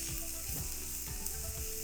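Onions frying in a pan for curry corned mutton, a dense, steady close-up sizzle lasting about two seconds with faint stirring underneath and no voices.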